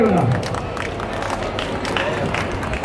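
Steady audience applause at a felicitation ceremony for a Hanuman temple celebration, a dense continuous clapping wash with crowd murmur and voices.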